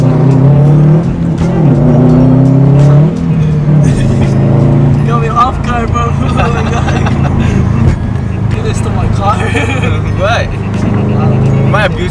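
A modified car accelerates and revs hard, with the engine note rising and falling loudly and close throughout, mixed with some voices.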